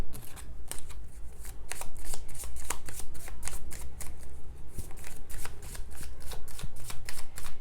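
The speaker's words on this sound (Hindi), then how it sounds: "मैं जब तक कार्ड शफल कर रही हूँ।" Tarot cards being shuffled by hand in a steady run of crisp, riffling flutters and soft slaps, close and fairly loud, repeating throughout with no talking.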